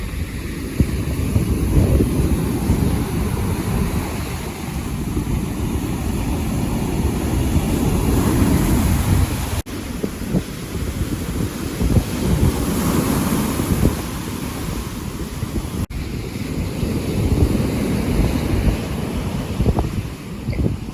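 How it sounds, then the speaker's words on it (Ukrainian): Heavy surf roaring steadily as high waves break on a Black Sea beach at Chornomorsk in September, mixed with strong wind buffeting the microphone. "боже, які хвилі там удалечінь"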